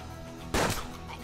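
One sharp gunshot in the video game Hard West cracks out over a low, steady background hum, its blast decaying quickly within a fraction of a second.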